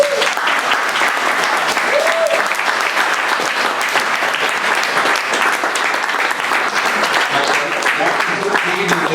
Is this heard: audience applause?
yes